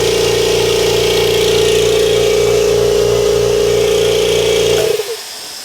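A Kobalt 26-gallon electric air compressor runs with a loud, steady motor drone and a strong pulsing hum, then shuts off abruptly near the end, leaving a brief, faint tail.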